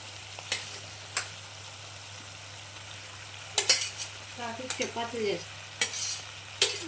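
Capsicum and small potato pieces fry in a pan as a soft, steady sizzle, broken by sharp scrapes and knocks of a spatula stirring at intervals, close by with no talk.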